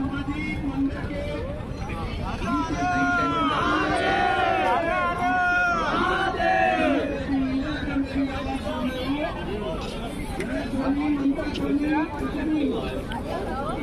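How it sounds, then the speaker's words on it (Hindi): A dense crowd of pilgrims on the Kedarnath Yatra mills around, filling the air with steady overlapping chatter and babble from many voices, some louder nearby and others blurring into a constant background hubbub. "हाँ भीड़ वगैरह भी काफ़ी ज़्यादा है।"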